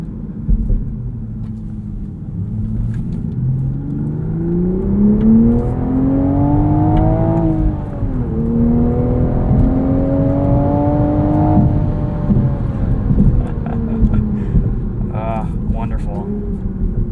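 A 2023 Toyota GR Supra 3.0 with manual gearbox accelerates hard, its engine note sweeping up and down through gears in a loud, sustained in-cabin drone.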